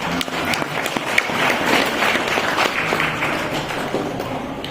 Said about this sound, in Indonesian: Maka tepuk tangan untuk persyarikatan kita,